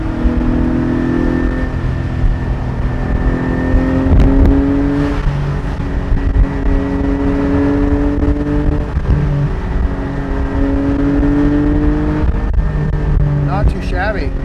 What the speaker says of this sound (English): All right, let's give it a bit more acceleration here.